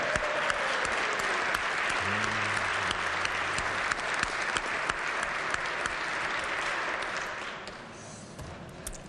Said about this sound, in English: Let's give Braden a warm round of applause.